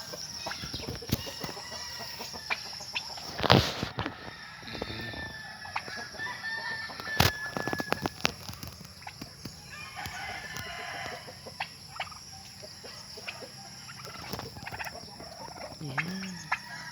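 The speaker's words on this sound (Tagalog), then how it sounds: "May mga pabo dyan sa loob." Turkeys gobbling and calling in a rural provincial garden, with a few loud calls standing out over faint background noise and scattered sharp sounds.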